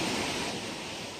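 Ocean waves wash onto a beach in the UAE, a broad continuous hiss of surf that is loud at first and eases slightly, with no voices.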